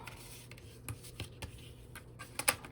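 Paper being folded into a junk journal folio by hand, close, soft creases and light taps in an uneven rhythm, with a sharper crinkle near the end.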